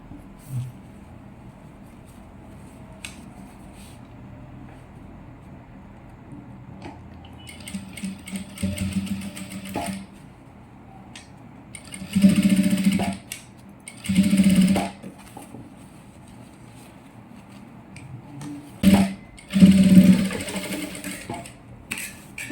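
A sewing machine stitches pleats on a child's silk skirt, running in short mechanical bursts separated by pauses, close and fairly loud, with faint handling sounds between runs.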